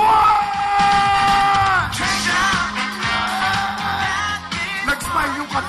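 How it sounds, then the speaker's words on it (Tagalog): Wedding reception guests erupt in loud yelling and whooping close by, a dense crowd roar that carries on for several seconds, with a sustained tone fading early on. "yung palakpakan na may kasama sigaw for Lawrence and Anne"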